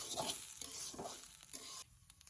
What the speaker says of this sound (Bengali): চাউলটা আমার প্রায় ভাজা হয়ে গেছে